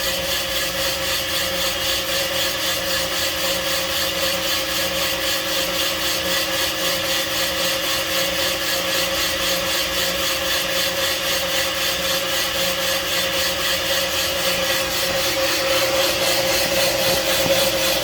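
A Van Norman 777S boring bar cuts a Chevy 350 cylinder with a constant, loud, steady machine whine and grinding hum that holds unchanged throughout, with no voices.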